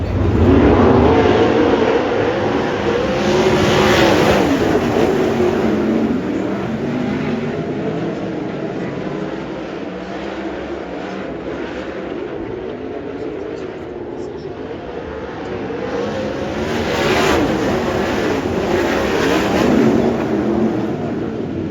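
Race cars at High Limit Racing's Kern County Raceway Park event, heard as a loud, continuous roar of several engines from trackside that rises and falls as the field passes, with speech faintly mixed in.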